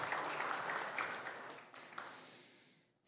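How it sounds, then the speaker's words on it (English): An audience at a Peace Starts with Me gathering claps, a fairly faint, scattered round of hands that gradually dies away into near silence. "Yeah, we can clap for that."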